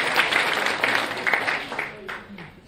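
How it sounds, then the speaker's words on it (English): A conference audience gives a round of applause at the close of a talk at the British Library at Boston Spa, a steady wash of clapping lasting a few seconds with no voices over it. "So give yourselves a round of applause."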